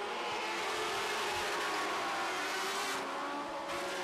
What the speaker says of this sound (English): you can hear these drivers shifting down the front straightaway